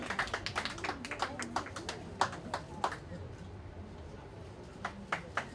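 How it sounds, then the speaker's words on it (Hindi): Scattered audience clapping at a book launch event in India, sharp individual claps in uneven bursts near the start, a low hum of voices underneath, then thinning to a few isolated claps. "Now please put your hands together for Jasvinder Singh."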